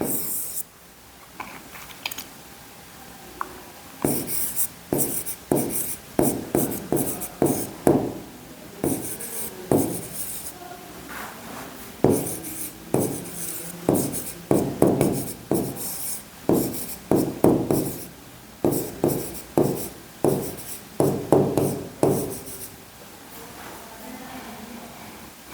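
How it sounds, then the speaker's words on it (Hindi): A teacher writes a question on a classroom board in bursts of rubbing, scratching strokes, loud and near, with short pauses between words. "एक सवाल और लिखता हूँ बच्चों आपके लिए।"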